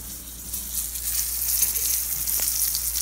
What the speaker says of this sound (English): These are frying up quite nicely.